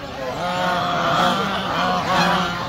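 Geese honk loudly and repeatedly at a crowded poultry market in Fatullah, overlapping nasal calls close by, with faint voices in the background.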